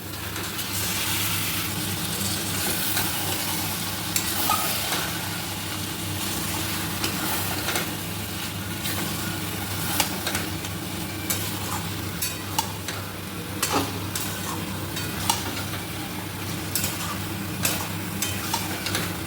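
Marinated chicken, coated in a tomato and yogurt mix, fries in a pan for chicken kosha, with a continuous loud sizzle and scattered spatula clicks and scrapes as it is stirred, with no voices.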